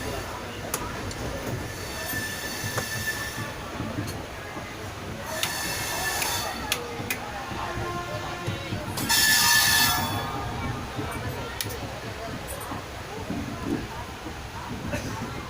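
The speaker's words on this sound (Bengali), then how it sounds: "চলুন দেখবো এবার কত জনে এবার ট্রেন ছাড়ে" Train departing a station, with a low rumbling rolling noise throughout, intermittent high squeals and hissing bursts from wheels and brakes, and a strong hiss surge midway.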